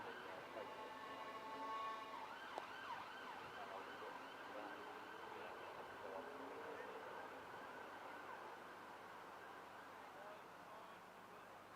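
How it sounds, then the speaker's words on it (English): An ambulance siren wails in the distance beside a cricket ground during an over-70s match, its tone swelling and fading as it passes over about ten seconds beneath low background noise. "Yet another ambulance."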